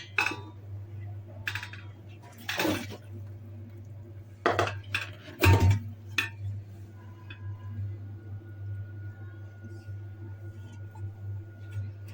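A pot of Antep-style stuffed dried eggplant and pepper dolma turned upside down onto a tray, giving a few sharp metallic clanks and clinks over a steady low hum, with soft speech around them.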